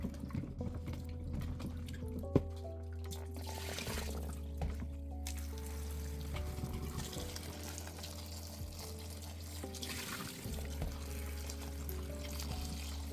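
Cold tap water runs steadily over a potato being rinsed in a kitchen, a soft continuous splashing and trickle with a low hum underneath.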